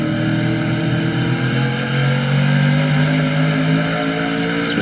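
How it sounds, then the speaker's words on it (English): Race car engine at Lucas Oil Raceway in an SRX series race, a steady loud drone with rising harmonic pitch as revs build under acceleration, heard alone without talk. "You can hear the RPMs build."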